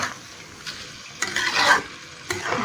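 Rice is stirred in a hot pan, making scraping, sizzling swells that rise and fall in several strokes, close and moderately loud.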